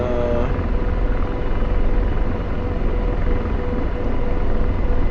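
An AH-64D Apache helicopter's rotor and engine drone steadily in the DCS flight simulator game, a deep continuous thrum with a faint whine on top.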